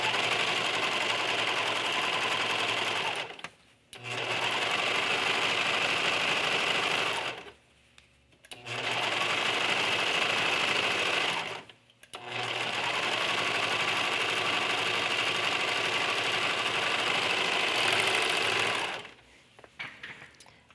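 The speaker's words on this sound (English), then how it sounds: "we're going to serge around the top of the pants to prevent the flannel from fraying." Serger overlock machine stitching around the top edge of flannel doll pants, running in three long steady bursts with brief pauses between, loud and close with no talk.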